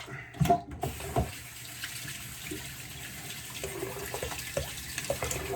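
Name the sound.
rinsing a razor under running tap water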